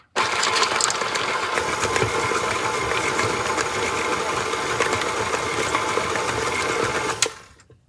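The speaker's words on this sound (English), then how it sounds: "Mix it through for a couple of seconds until it's just combined." An electric mixer runs steadily, blending white chocolate brownie batter with a close, continuous motor whir that holds for about seven seconds, then winds down and stops.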